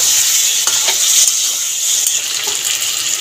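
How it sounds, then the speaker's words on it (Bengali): Prawns, pointed gourd and potatoes fry in spices in a pan, giving a steady close hiss of sizzling oil with faint stirring scrapes throughout, no talking. "চিংড়ি, পটল, আলু মশলা দিয়ে ভালো করে কষিয়ে নিয়েছি"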